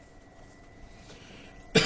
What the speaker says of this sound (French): Je tousse beaucoup moins